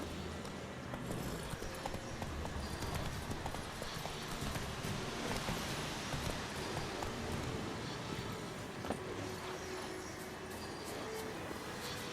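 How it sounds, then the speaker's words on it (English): Horse galloping in The Witcher 3, a dense, loud stream of rapid hoofbeats pounding continuously over a broad rumbling background, steady throughout with no talking. "Run, Roach. Not so fast, Roach."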